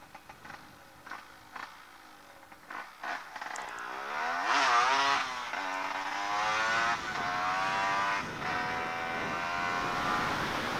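An engine fitted with its old refitted exhaust starts with a few sputtering bursts, then revs up into a loud, raspy rising whine and settles into a steady, throaty run close by.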